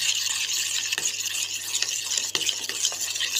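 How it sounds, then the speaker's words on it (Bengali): Mango pulp being stirred with powdered sugar in a bowl, with a steady soft scraping and swishing from a spoon, close and continuous with faint clinks and no talking. "আমের পাল্প ও চিনি গুঁড়ো খুব ভালোভাবে মিশিয়ে নেব।"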